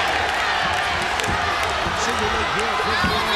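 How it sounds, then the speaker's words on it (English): A ONE Championship fight crowd roars in a loud, steady wash of cheering that fills the whole stretch without letup, with commentary voices likely running underneath. "And listen to this crowd."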